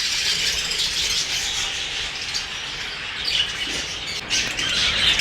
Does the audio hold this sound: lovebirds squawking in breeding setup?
yes